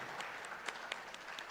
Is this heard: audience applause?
yes